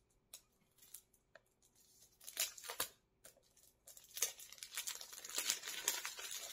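Khamrah perfume package by Lattafa being opened, with close crinkling and crumpling of wrapping in irregular bursts that build from sparse rustles to denser, louder handling near the end.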